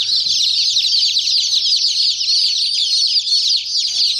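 A flock of young chickens, including a crested Polish bird, keeps up a dense, continuous chorus of high peeping and chirping, loud and close throughout.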